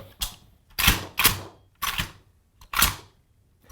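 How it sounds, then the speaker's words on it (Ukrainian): A firearm is loaded and its bolt carrier worked, giving five sharp metallic clacks and snaps in an uneven rhythm, close and loud with no other sound. "Зарядити зброю."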